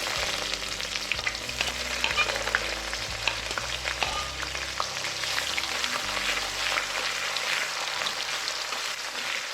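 Sliced medium-sized onion frying in oil tempered with a bay leaf, a steady dense sizzle and crackle close by with occasional stirring scrapes, under a low hum, no talking.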